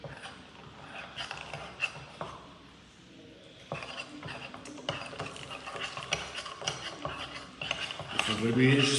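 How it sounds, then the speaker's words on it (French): A small cup of water and a solution being stirred, with rapid clinking and scraping of a utensil against the cup that grows busier and louder toward the end, close up. "Je vais donc mettre dans cette petite tasse et je vais mélanger le tout"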